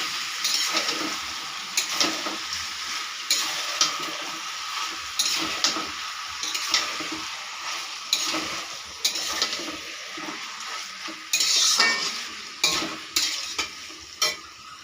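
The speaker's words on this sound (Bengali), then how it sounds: "এবারে দিয়ে দেব ম্যারিনেট করা মাংসগুলো। দিয়ে নাড়তে থাকবো।" Marinated chicken pieces sizzle in a pan as a spatula repeatedly scrapes and turns them, making close rhythmic stirring strokes over a constant frying hiss, with no voices.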